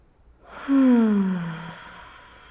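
One deep, audible exhale closing a yoga breathing sequence, a single breathy sigh close to the microphone that swells quickly and slowly fades.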